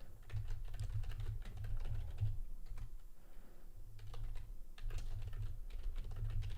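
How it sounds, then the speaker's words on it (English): Quick keystrokes on a computer keyboard during a live day-trading session, coming in bursts of soft clicks with short pauses. The sound is fairly faint and close, over a low steady hum, with no talking. "If you do hear me typing, that's just me making alerts"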